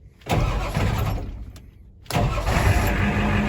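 An old truck's engine cranks and fires after a block heater repair, a loud start that catches, briefly drops, then settles into a steady, strong idle close by.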